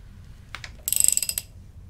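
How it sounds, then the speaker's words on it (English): A socket wrench ratchets on the crank pulley bolt of a GM Ecotec L61 engine, giving a short burst of rapid clicks after a couple of knocks, close and clear. "we're gonna put a socket onto this pulley bolt right here. We're just gonna slightly turn that motor"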